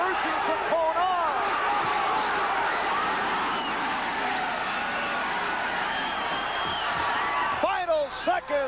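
A boxing crowd roars and urges Bobby Chacon on during his 1983 rematch with Cornelius Boza-Edwards, a steady arena din with rising shouts and whoops that stays continuous throughout.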